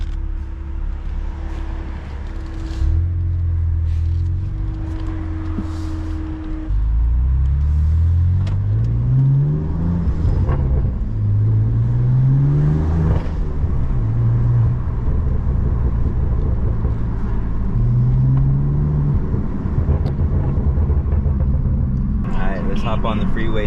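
A BMW M4 F82 pulls onto a freeway, its engine rising through several rev sweeps and gear changes over a steady road rumble, heard from inside the car, loud and close, with brief talk partway through.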